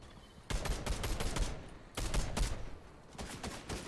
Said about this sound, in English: We got gunfire over there.